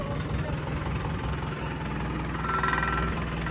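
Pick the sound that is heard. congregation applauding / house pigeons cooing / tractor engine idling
tractor engine idling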